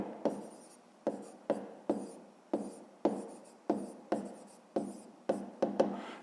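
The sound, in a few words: writing a math explanation by hand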